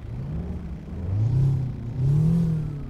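A Detroit Diesel 8V engine in a Kenworth W900A truck in American Truck Simulator revs twice, each rise a deep droning climb that swells louder before easing back, heard alone without talk.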